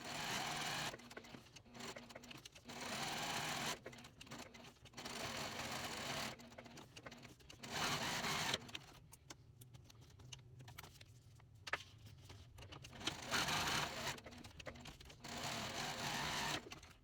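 A sewing machine runs close and loud in repeated bursts, stitching lines on a range backpack, with steady mechanical whirring broken by short pauses and fabric handling between runs.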